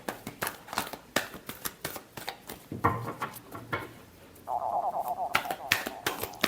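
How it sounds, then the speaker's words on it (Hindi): Tarot cards are shuffled close by in quick, crisp riffles and taps, a run of short papery clicks with a brief pause partway through and a faint tone behind. "Last shuffle."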